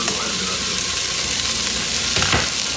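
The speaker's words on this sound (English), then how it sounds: "Let's throw the onions in." Chopped onions fry in a pot for beef stew, a loud steady sizzle with a burst of crackling as they hit the hot fat near the end, no voices.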